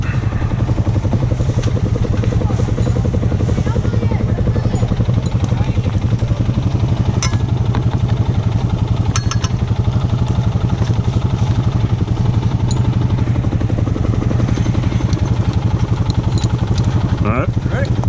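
A four-wheel-drive vehicle's engine runs close by with a loud, steady low rumble and some mechanical clatter throughout, while voices talk over it.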